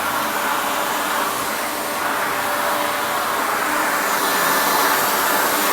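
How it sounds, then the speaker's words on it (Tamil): A wet vacuum cleaner runs steadily, sucking water and dust out of a mat with a continuous loud hissing roar, alone and unbroken throughout. "அப்படியே அந்த மேட்டில் இருக்கிற தண்ணி எல்லாமே டஸ்ட் எல்லாமே ஃபுல்லாக உறிஞ்சிருச்சு"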